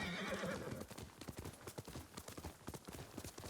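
A horse in the Ghost of Tsushima video game whinnies at the start, then galloping hoofbeats follow in a quick, steady clip-clop rhythm, close and clear.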